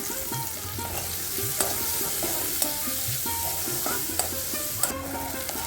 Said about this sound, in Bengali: এখন ভালোভাবে পেঁয়াজগুলোকে তেলের মধ্যে ভেজে নেব